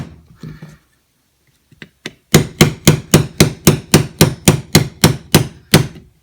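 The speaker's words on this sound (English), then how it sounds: "So the first thing we're going to do is we're going to put our frame pin in for the fire control unit." A frame pin hammered into a Canik TP9 V2 pistol frame for the fire control unit: a few light taps, then a steady series of about fifteen sharp, evenly spaced metallic hammer strikes, close and loud.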